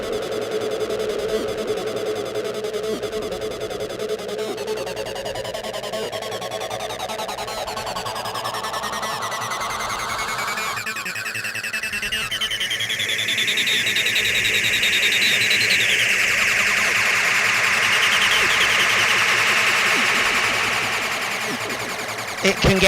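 Three layered acid synth lines play together in a dense, continuous squelchy wash, with a rising resonant filter sweep building loud in the second half; no talking over it.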